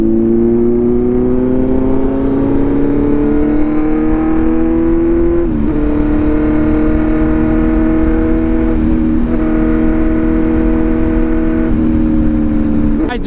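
A motorcycle engine hums steadily while riding, a loud close drone with a clear rising pitch that dips briefly a few times as the throttle eases, continuous under wind noise with a voice talking over it.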